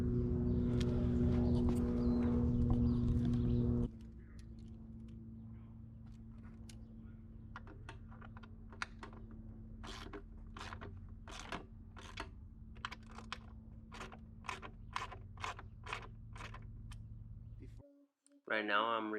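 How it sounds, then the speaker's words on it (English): A bolt holding the gas tank and bracket is worked loose on a 2019 Yamaha R6, heard close as a dense run of quick ratcheting clicks that follows a louder stretch of droning noise. "Right now I'm removing the bolt that's attached to the gas tank and the bracket"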